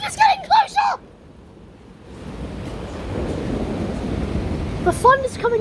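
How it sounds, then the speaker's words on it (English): Thunder during a severe thunderstorm, a low broad rumble that rises and lingers for several seconds, with wind noise on the microphone and a voice talking briefly before and after. "The thunder's getting closer!"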